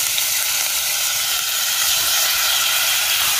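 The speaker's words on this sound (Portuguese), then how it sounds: "Aí aqui vou fritar uma carninha." Seasoned meat frying in a pan, a loud, steady sizzle with constant hissing spatter throughout.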